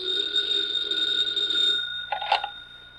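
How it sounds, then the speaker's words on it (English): An old telephone rings in a classic radio crime drama set at an FBI field office, a steady electric bell tone sustained for about two seconds, followed by a brief clatter as the receiver is picked up. "Special Agent Jim Taylor is finishing a report when his phone rings."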